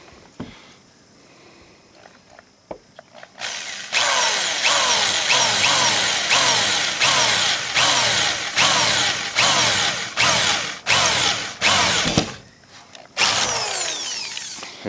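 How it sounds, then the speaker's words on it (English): Power drill drilling out bolt holes in a wind turbine pipe coupling, with a loud, close whine that runs in repeated bursts separated by brief pauses, each burst ending as the motor spins down, after some quieter handling at first. "He's getting ready to drill them out now."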